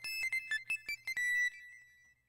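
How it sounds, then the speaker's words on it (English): A phone ringtone rings in the Nintendo Switch visual novel Nurse Love Syndrome, a bright, repeating electronic melody of short chiming notes that plays alone at moderate volume and then fades out. "My phone's ringing, but I don't want to answer it."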